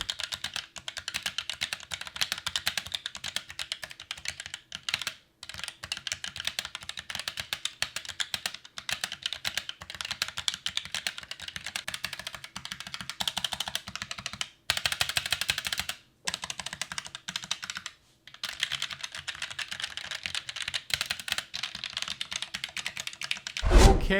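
Steady, fast typing on Roccat Vulcan II Max and Mini keyboards, with dense keystroke clatter that runs almost nonstop and drops out only in a few brief pauses.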